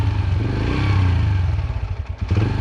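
A Yamaha TT-R125 dirt bike engine warms up loudly nearby, running roughly as it struggles to hold an idle, its note wavering and stumbling toward the end.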